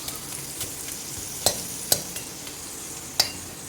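Asafoetida fries in a pan with a steady hiss of sizzling oil, broken by a few sharp clicks of a spoon stirring against the metal, and no one speaks.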